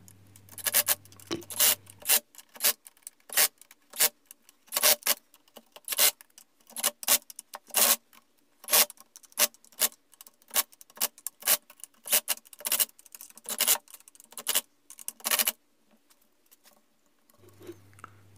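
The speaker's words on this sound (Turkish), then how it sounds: "Sızdırmaması için her köşeden, her kenardan vida atıyoruz." Screws are driven into the corners and edges of a hydrogen drycell electrolysis unit, giving bursts of close, rasping driver whirs and clicks in an irregular rhythm, with brief pauses between screws.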